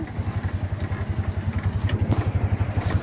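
A motorcycle engine heard as the rider brakes and shifts down a gear, a loud, close, low throbbing pulse that beats steadily and rises a little toward the end.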